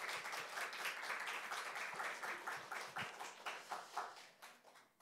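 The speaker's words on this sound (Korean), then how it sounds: "우리 하나님께는 영광의 박수로 함께 하겠습니다." A church congregation claps during a Christmas thanksgiving service, with quick, rhythmic applause that gradually thins and fades toward the end, at moderate volume.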